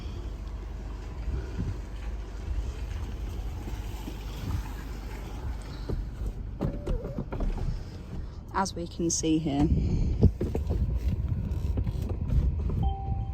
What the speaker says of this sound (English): To close the roof you put your foot on the brake and then you press down.